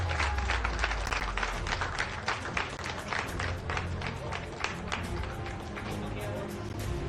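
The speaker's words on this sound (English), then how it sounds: "Ladies and gentlemen, put your hands together. Let's hear a big roar and a big cheer for Miyu Yamashita." A crowd applauds and cheers for golfer Miyu Yamashita, winner of the 2025 Maybank Championship. The dense, steady clapping fills the whole stretch at a strong level, with no single claps standing out.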